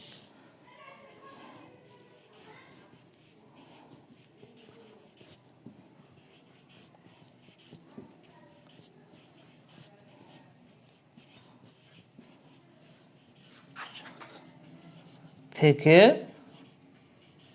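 A pen scratching by hand on paper as schoolwork answers are written out, soft, close strokes running under a person speaking, followed by a brief louder burst near the end.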